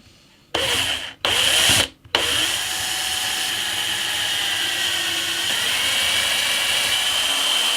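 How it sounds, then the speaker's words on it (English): A power drill bores registration holes down into a classical guitar fretboard at the fret positions, starting in short loud bursts with brief pauses and then running as a steady, close whine. "So I'm drilling down where the frets are going to go,"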